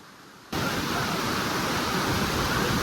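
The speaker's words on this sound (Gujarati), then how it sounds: "જોઈ શકો છો કેટલો વરસાદ પડે છે" Heavy rain and rushing water at Sundha Mata in Rajasthan: a steady, loud, broadband roar that starts abruptly after a short quieter moment and continues unbroken.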